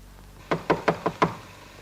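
Five firm knocks on a door in a Hindi film scene, evenly spaced in a quick series, loud and close against a quiet room with no talking.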